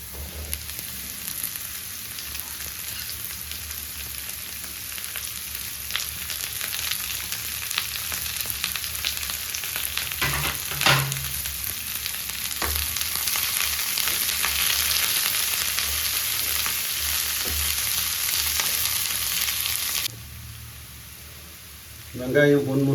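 Onions fry in oil with garlic for kara kuzhambu, making a steady close sizzle with occasional stirring scrapes that lasts a long while. It drops away near the end and a voice briefly speaks.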